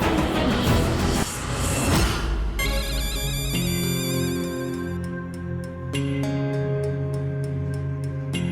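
A phone ringtone plays unanswered, a melodic electronic tune of repeating notes that follows a brief noisy opening and keeps cycling without interruption.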